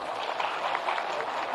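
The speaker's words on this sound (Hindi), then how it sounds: "जोरदार ताली।" Audience applause at a school teacher event in Bihar, a dense steady clatter of many hands clapping together for the full short stretch, fairly loud and close with no talk over it.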